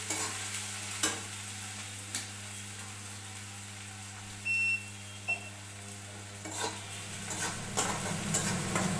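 Okra being sautéed in a pan, a gentle steady sizzle with occasional spatula scrapes and taps against the pan, a low constant hum in the background, moderate and close, no voices.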